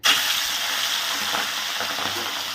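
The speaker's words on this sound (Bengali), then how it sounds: "তো এবার দিয়ে দেবো এর মধ্যে চিংড়ি মাছটা" Prawns coated in salt and turmeric hit hot white oil in a wok, setting off a loud, steady sizzle that holds from the first instant to the end with faint stirring beneath.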